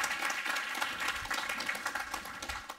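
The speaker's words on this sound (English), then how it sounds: "So another round of applause." An audience claps to welcome a speaker onto a conference stage, a dense, fairly distant patter of many hands that runs steadily throughout.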